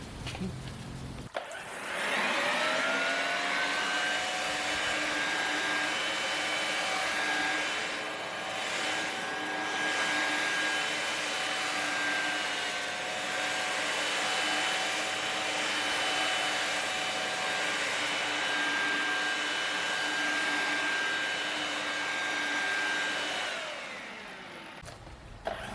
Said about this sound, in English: I do recommend wearing ear protection while using the blower.